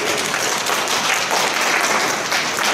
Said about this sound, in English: I think last night Trump said we should clap here for ourselves